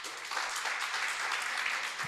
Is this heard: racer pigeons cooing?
no